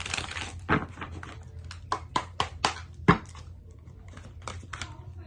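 Crisp riffling and tapping of a tarot deck being shuffled, several sharp snaps spaced irregularly, close and fairly quiet with no talking.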